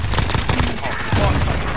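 Rapid gunfire in Call of Duty crackles in a dense, loud burst of repeated shots across a brief moment, with some voice mixed in.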